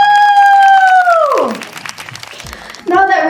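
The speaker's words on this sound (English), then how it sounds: "Let's give a round of applause." Applause after birthday candles are blown out: a drawn-out cheering 'woo' voice slides down in pitch over scattered clapping, which fades to a thin patter before a person starts speaking.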